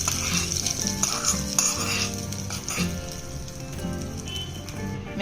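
A hot tempering of curry leaves poured into methi leaves chutney, giving a loud, close, continuous sizzle and crackle with a few metal spoon scrapes, no voices.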